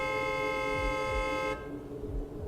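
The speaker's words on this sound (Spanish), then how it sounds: "sonó un claxon." A taxi's car horn gives one steady, sustained honk lasting about a second and a half, then stops, leaving low traffic rumble.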